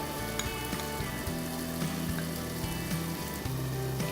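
Stuffed okra coated in masala and gram flour cooks in a pan, a dense, steady sizzle running throughout, with a faint low tonal backing underneath.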